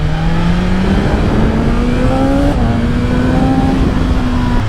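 A 2025 BMW M1000XR superbike engine revving under way, a loud steady high-pitched whine that climbs and drops across gear changes, close and continuous with no talk.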